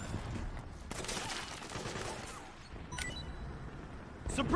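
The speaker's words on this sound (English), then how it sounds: "Weapon fire!" Bursts of automatic and rapid gunfire in the Metal Gear Solid 4 battlefield, irregular volleys with crashes, fairly loud and continuous, with no speech.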